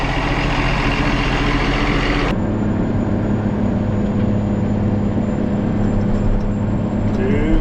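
Tractor engine running during field tillage, a steady close diesel rumble with constant mechanical drone, loud and unbroken.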